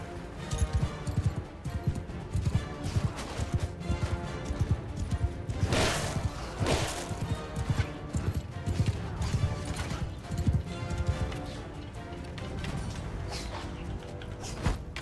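Horse hooves galloping in the medieval battle game Mount & Blade 2 Bannerlord, a steady rapid clip-clop with a brief whinny and crashing battle noise partway through, loud and continuous with no talk.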